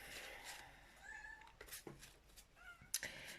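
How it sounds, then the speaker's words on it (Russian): A house cat meows several times in a quiet indoor room, short rising calls at moderate distance, fairly faint, with brief gaps between them. "у меня постоянно мяукает кошка"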